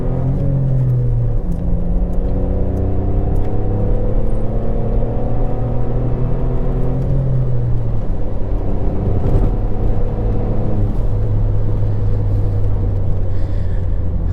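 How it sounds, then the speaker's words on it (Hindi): A modified 2024 Skoda Slavia base model with a stage 1 tuned 1.5 TSI engine downshifts and pulls hard under throttle. Its loud, close engine note climbs steadily, drops briefly at a gear change, then rises again. "अब यहाँ पे एक बार फिर से डाउन शिफ्ट करके फिर से एक बार थ्रॉटल लेते हैं।"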